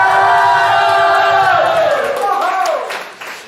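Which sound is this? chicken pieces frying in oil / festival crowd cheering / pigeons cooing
festival crowd cheering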